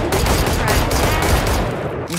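Guardian rifle gunfire in the Valorant video game, loud dense rapid shots packed together in a continuous burst, with faint talk underneath.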